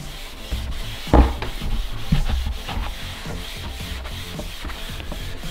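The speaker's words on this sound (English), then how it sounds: "I'm going to give that a buff." A rag balled up and rubbed over freshly finished wooden campervan interior panels to buff in wax makes close, rhythmic scrubbing strokes that repeat steadily.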